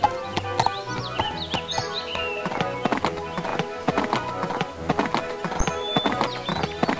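Rapid clip-clop of horse hooves galloping in a steady rhythm in a Barbie Riding Club video game, with occasional bird chirps and a brief whinny in the background.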